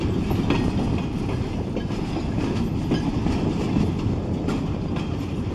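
Long freight train of empty pulpwood cars rolling past nearby, a steady dense rumble with rhythmic clickety-clack of wheels on rail joints throughout, no voices.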